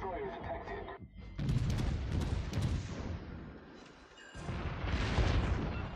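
Gunfire in a video game: heavy booming shots and rattling bursts roll on almost continuously, loud and reverberant, with a short lull before the firing resumes.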